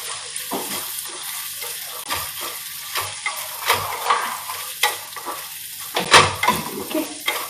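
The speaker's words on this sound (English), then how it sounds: "the onions go in. Okay. Again, the heat is at the moment on a low. And we'll keep sauteing." Onions sautéing in a pot on low heat, a gentle sizzle with repeated scraping and knocking strokes of a spoon against the pot, close and fairly loud, no voices.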